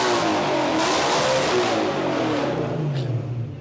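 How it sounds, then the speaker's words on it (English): A BMW drift car engine revs hard, a loud, raspy roar that holds near full throttle and then winds down as the revs fall, close by and with no talking. "Can you rev it up?"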